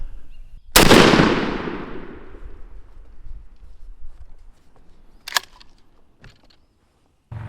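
Shotgun firing a Remington Nitro Turkey 3-inch number 5 load through an XR turkey choke at a 30-yard pattern target outdoors: one sharp, loud blast with a long fading rumble, followed by faint clicks.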